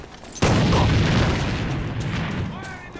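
Grenade blast in Alliance of Valiant Arms, a single close, heavy boom that hits suddenly and rolls off into a long fading rumble, with faint voices underneath.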